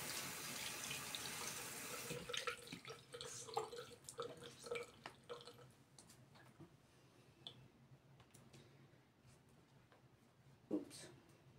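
Running tap water used for rinsing during an evening skincare routine, a steady faint hiss for the first seconds, then splashes and drips as hands move through the stream, close and quiet.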